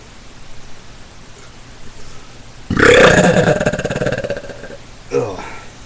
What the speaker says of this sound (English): So, that was me belching.